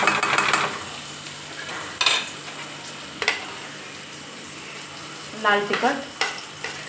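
Tomato and spices fry gently in a pan over low heat, a quiet sizzle broken by a few sharp utensil scrapes and stirring clinks, with brief speech over the cooking.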